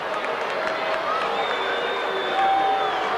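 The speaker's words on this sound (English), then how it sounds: "Well, the crowd don't like it." Rugby league stadium crowd in a 1982 Winfield Cup match between Parramatta Eels and Western Suburbs Magpies, a broad distant roar and murmur of disapproval rising slightly toward the end, with commentary voices over it.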